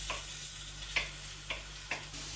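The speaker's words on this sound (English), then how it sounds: "we'll add in the shrimp to the pan" Shrimp frying in a preheated pan, a steady broadband sizzle with a low hum beneath and a few soft, evenly spaced ticks or pops, close and alone without talk.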